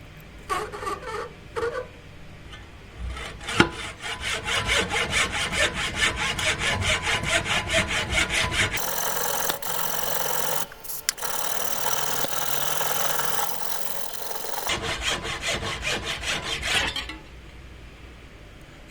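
Hand saw cutting through homemade brake pad material held against a vise as a guide, with steady rapid rasping strokes up close, the rhythm shifting midway to a harsher continuous grind before easing off.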